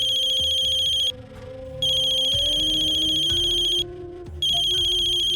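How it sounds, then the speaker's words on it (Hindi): Mobile phone ringtone of an incoming call: a loud, high electronic tone in repeating bursts with two short pauses, over a soft background music bed and no talk. "ले, हमारे आदमी का फोन आ गया।"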